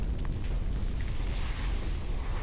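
Low rumbling booms of bombs exploding in the CMBS wargame over a sunken road, a continuous deep distant roll of blasts with no voices.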